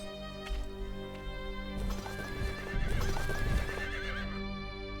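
Horse neighing and whinnying in the Age of Wonders 2 strategy game, with steady clip-clopping hooves under layered game music and battle noise, the whinny rising loudly mid-clip.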